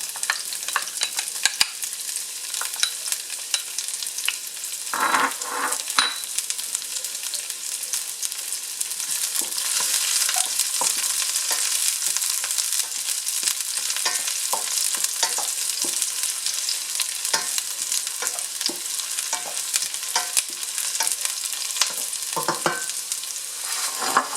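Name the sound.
garlic frying in oil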